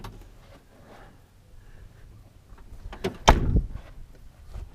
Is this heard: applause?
no